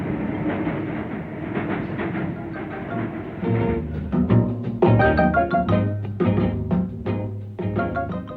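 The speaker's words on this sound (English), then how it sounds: "British-built locomotives in New South Wales." British-built steam locomotives run on a railway in New South Wales in 1959, with a steady rumble that gives way to rhythmic wheel clatter over rail joints, moderately loud and continuous.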